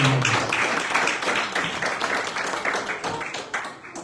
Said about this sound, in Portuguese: Se você puder aplaudir o nome do Senhor, pode aplaudir.